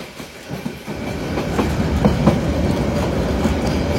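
The Titas Commuter Train rolls along the Methikanda loop line: a continuous loud rumble from on board, with periodic clacks of wheels crossing joints and a faint squeal now and then.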